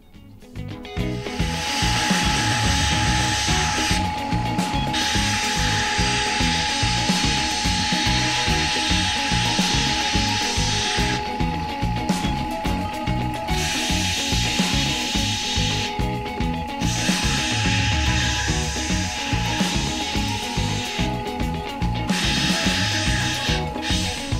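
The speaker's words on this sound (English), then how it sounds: "you'll keep continuing on the linisher machine until you get your desired shape that you want for your design" A linisher belt machine grinding and polishing a tableware piece, running loudly and steadily throughout with repeated brief dips where the piece is lifted from the belt.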